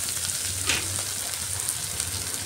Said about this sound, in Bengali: পেঁয়াজটা দিয়ে পেঁয়াজটাকেও একটু ভালো করে লাল লাল করে ভেজে নিতে হবে